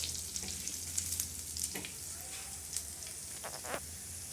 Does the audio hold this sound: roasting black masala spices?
yes